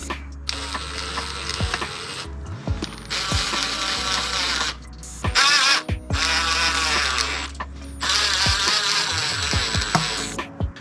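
A ratchet lightly snugs the case bolts on an SR20 five-speed transmission during a rebuild, making loud, close bursts of rapid clicking, each lasting a second or two and separated by short pauses, with no talk.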